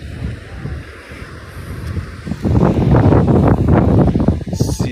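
Waves surge and wash onto a beach at Con Dao island, a low rumbling roar that swells louder midway and stays strong, mixed with gusty wind buffeting the microphone.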